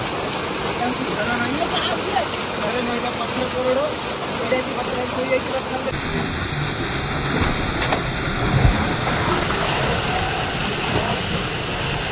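The Jharnai waterfall in Ganjam, Odisha, makes a loud, continuous broadband roar of falling water that fills the whole stretch, with faint voices occasionally beneath it.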